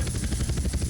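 A large, heavy helicopter in GTA San Andreas sounds up close and loud, its rotor chopping in a rapid, steady pulse over a constant engine drone.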